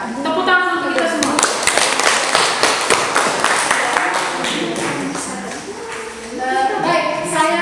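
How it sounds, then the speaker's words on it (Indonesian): Students in a high school mathematics class clap together for several seconds, the sound crowded and mixed with their voices and talk. "Tepuk tangan untuk kita semua."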